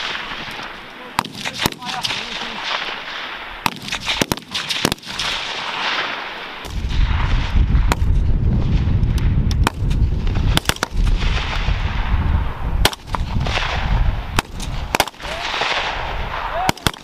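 Gunfire from a British Army officer cadet assault exercise at Grafenwoehr training area, Germany: sharp, loud rifle shots cracking repeatedly and irregularly over a rumbling outdoor background, with shouted voices between bursts.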